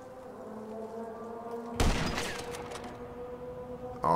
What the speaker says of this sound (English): I wonder how this works with a sniper rifle.